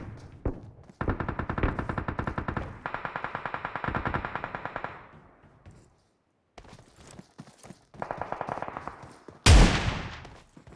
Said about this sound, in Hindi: यहाँ पर ना इस बंदे को शॉटगन से तो मैं काफी सही गिराता हूँ